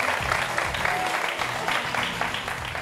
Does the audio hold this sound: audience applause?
yes